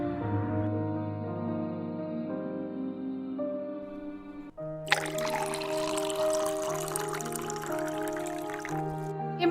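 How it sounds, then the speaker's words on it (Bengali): Tea is poured into cups in a steady, close liquid stream lasting several seconds, set over soft background music that plays alone before the pour begins. "চলুন এবারে কাপের মধ্যে ঢেলে নিই।"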